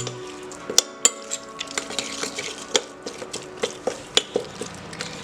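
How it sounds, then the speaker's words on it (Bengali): Tandoori chicken marinade being mixed with lemon juice in a bowl: irregular light clinks and taps of a utensil against the bowl with soft wet stirring between, close and steady, no talk. "লেমন জুস, সমস্ত কিছু ভালোভাবে মিশিয়ে নেব।"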